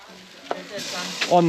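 Small steak rolls sizzle steadily on a hot grill at a Botswana safari camp, with a few clinks and scrapes and a brief voice near the end.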